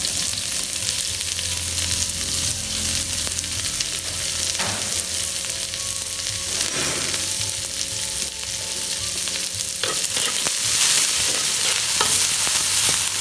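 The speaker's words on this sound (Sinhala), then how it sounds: "අපි කපාගත්ත බී ලුණු ටිකයි සුදු ලුණු ටිකයි අමු මිරිස් ටිකයි කරපිංච ටිකයි මේකටම දාමු." Onions, garlic, green chilies and curry leaves frying in a pan, a loud continuous close sizzle with occasional stirring scrapes, no voices.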